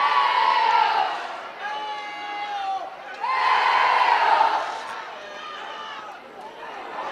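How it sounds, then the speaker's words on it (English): Hornell home crowd at a varsity high school football game against Livonia, loud cheering and shouting that swells, fades, then surges again from behind, with a commentator talking over it. "I don't know if you hear the Hornell crowd behind us"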